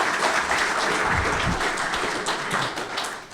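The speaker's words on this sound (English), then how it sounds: "How's it feel to get your first applause?" An audience at a district court Law Day gathering claps warmly for a retired juvenile clerk, a dense steady round of applause filling the room for several seconds with faint voices underneath.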